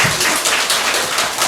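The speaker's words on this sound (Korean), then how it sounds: "우리 하나님께 영광의 박수 올려드리시겠습니다." Brief burst of congregational clapping during a Sunday morning church service in a village celebration, loud and close, a quick uneven patter lasting about a second and a half.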